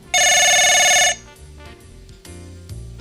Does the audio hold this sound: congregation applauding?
no